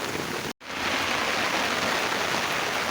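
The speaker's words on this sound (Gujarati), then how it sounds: "અત્યારે ફૂલે ફૂલ વરસાદ પડી રહ્યો છે" Heavy monsoon downpour with swollen streams rushing in hilly countryside, a dense, loud, steady hiss of rain and flowing water that drops out for an instant near the start, then roars on unbroken.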